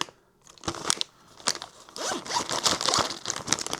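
A resealable nylon accessory bag from an ASUS XG27AQWMG monitor box is opened up close, with sharp crinkling, zipper-like rasps and crackles in quick irregular bursts over about four seconds.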